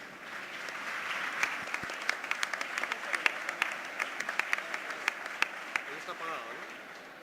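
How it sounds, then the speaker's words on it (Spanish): Audience applause after moderator Ana María Durán and panelists Elizabeth Añaños and Carlos Andrés Restrepo are introduced at a conference panel, a steady dense wash of clapping with sharp individual claps standing out, sustained throughout at moderate loudness. "El aplauso para ellos."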